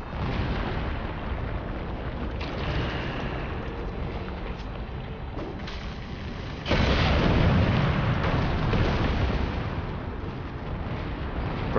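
Shadow bombs exploding in the action game Darksiders 2, heard as a dense, continuous roar of blasts with a sharp, louder surge partway through, filling the scene without any talk.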